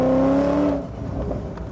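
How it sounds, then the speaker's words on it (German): Supercharged V8 car engine revving hard with a loud, rising whine that fades into a rougher, lower roar. "Ab 4000 Touren setzt der Kompressor ein und die Kraft des V8 wird schlagartig freigesetzt"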